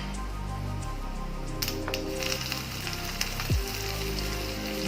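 Cumin seeds splutter in hot sesame oil for tempering, a dense, loud, continuous crackle and hiss close up, with a few sharper pops partway through and a brief low clunk near the end.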